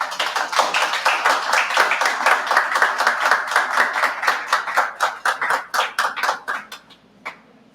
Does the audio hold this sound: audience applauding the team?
yes